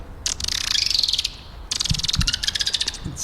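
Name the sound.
person imitating a dolphin call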